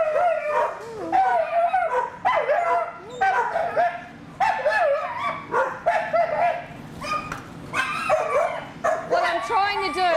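A dominant, aggressive dog barks repeatedly during training, sharp close barks mixed with yips and whimpers in an uneven rhythm.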